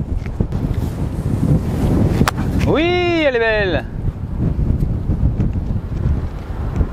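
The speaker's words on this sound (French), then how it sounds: "gros vent de face" Strong headwind on a golf course buffets the microphone with a constant low roar, while a person speaks briefly partway through.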